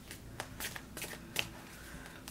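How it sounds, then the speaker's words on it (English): A deck of tarot cards is shuffled by hand in a quiet room, giving a steady run of soft riffling and flicking bursts with no talking. "I'm just going to give the cards a few more shuffles here"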